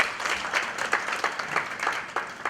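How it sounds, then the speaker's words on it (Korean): Audience at a Korean welfare policy forum clapping to welcome the next panelist, a moderate, continuous patter of many hands with a loose pulsing rhythm throughout. "하나의 박수 부탁드립니다"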